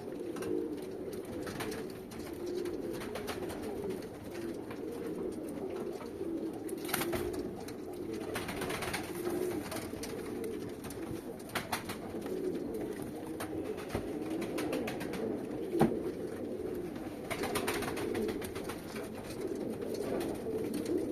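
Misky pigeons, a breeding male among them, coo in a steady low chorus that runs unbroken throughout, with occasional wing flutters and small knocks over the murmuring.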